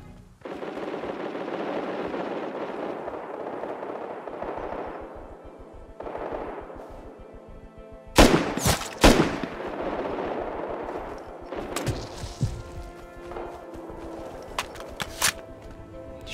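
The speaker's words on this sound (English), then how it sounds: "I just got shot from somewhere and I don't know where from" Gunfire in the survival game Rust during a tense player-versus-player fight: loud, sharp shot bursts and rapid volleys crack out over a steady ambient bed, with scattered single shots trailing off afterward.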